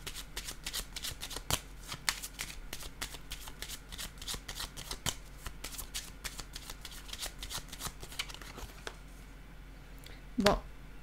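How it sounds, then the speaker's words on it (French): Playing cards handled and laid down on a table during a card reading, a dense run of quick close flicks and taps, ending with a sharper snap near the end. "je vais déposer une carte ici"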